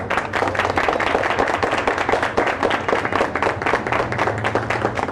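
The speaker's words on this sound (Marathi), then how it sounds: "खूप जोरांचा आणि जोरात अशा टाळ्यांचा वर्षाव किरण भोर यांच्यावर होतोय" Dense, loud audience applause for a quiz show winner, continuous rapid clapping from many hands sustained for several seconds with no pause, close and filling the room.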